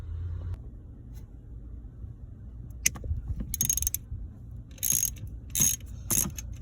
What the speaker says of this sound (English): What are the odds that I can get these shear bolts out with a socket?